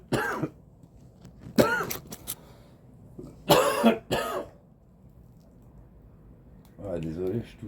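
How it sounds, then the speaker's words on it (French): A person coughing in several harsh bursts with throat clearing, separated by short quiet pauses, close by, with a brief voice near the end. "désolé, je tousse de ouf"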